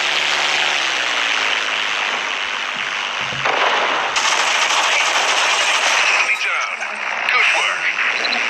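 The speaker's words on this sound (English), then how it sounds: "Taking heavy fire!" Dense, continuous machine gun fire from aircraft in War Wings, loud and close, roaring without pause alongside radio-style voice callouts.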